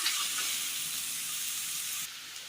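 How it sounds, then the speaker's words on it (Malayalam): Onion sautéing in a pan for a Kerala dish, a steady close sizzle and hiss of frying that holds evenly throughout, then drops slightly near the end, with no voices. "സബോള ഒന്ന് വഴറ്റിയെടുക്കാം."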